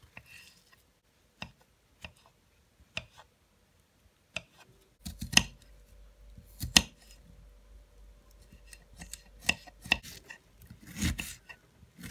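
A knife chopping mushrooms into cubes on a cutting board, sparse sharp clicks at first, then closer, quicker cuts mixed with soft scraping, recorded close up without talk.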